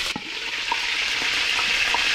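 Chicken wings browning in a hot pan give a steady, dense sizzle with faint crackles and pops, close and continuous without any talk.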